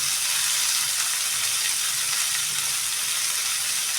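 Onion and garlic frying in a pan for tomato chutney, a steady, dense sizzle with a constant hiss throughout and no talking.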